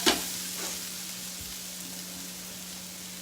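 Onions fry in a pan with a soft, continuous sizzle, preceded by a brief clatter at the start and otherwise steady and even throughout.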